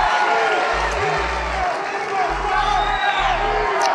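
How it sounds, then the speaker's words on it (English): Rally crowd in North Carolina roaring with cheers, whoops and scattered clapping, a broad, sustained wash of noise, with a low hum coming and going underneath. "What a nice crowd this is."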